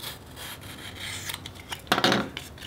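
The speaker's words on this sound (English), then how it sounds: "just gonna go ahead and open up the score, fold it over, and bevel it." A blade or sanding tool rubs and scrapes along a scored foam board edge, beveling it during an RC plane build; soft, close rasping strokes, with a louder burst of scraping near the end.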